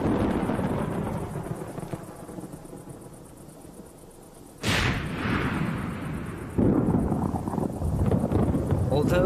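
A massive tropical thunderstorm rumbles with deep, heavy thunder, a loud rolling crash breaking in midway and another surge later, over constant wind roar while a narrator speaks.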